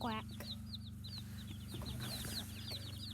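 Newly bought farm chickens and ducks cluck and cheep steadily in a noisy pen, many small calls overlapping over a constant low hum, close and busy throughout.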